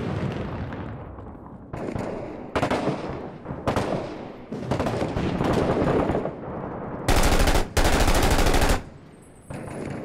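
Sustained bursts of M249 machine gun fire in the war shooter Six Days in Fallujah, loud and close, with several long automatic volleys separated by short pauses and ending in a brief tail.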